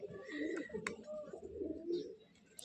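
A pigeon coos softly close by, a few low rolling calls over a quiet background, with a brief sharper chirp in between.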